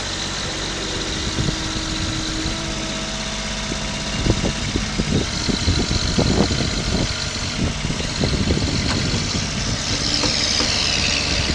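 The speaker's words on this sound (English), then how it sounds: "Tractor starts right up." A 2015 Kubota B26 compact tractor engine rumbles steadily at close range, with knocking bursts and rising mechanical clatter as it runs up after starting.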